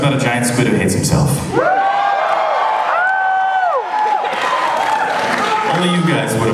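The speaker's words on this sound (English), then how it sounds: "Only you guys would applaud very loudly." Concert crowd at the Aladdin Theater in Portland clapping and cheering loudly, continuous applause with rising whoops and shouts layered on top, near and full.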